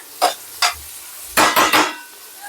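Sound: onions being sautéed in a pan

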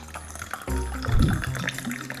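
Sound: hot water poured into a calabash mate gourd

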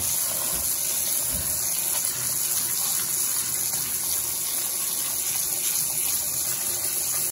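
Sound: shower-rinsing ume plums with running water

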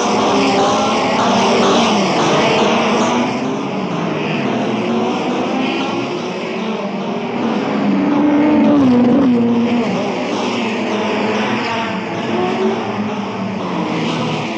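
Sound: racing cars starting the 1962 Monaco Grand Prix

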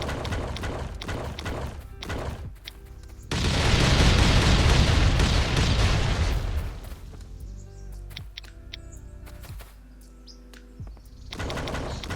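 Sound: grenade explosion in the video game Last Island of Survival

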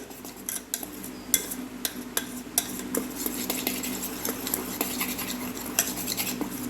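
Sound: whisking semolina dhokla batter in a bowl

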